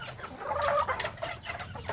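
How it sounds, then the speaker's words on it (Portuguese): Laying hens cluck and chatter at feeding time, several birds overlapping in a busy, close flock with short calls rising and falling throughout. "Hora de alimentação das galinhas."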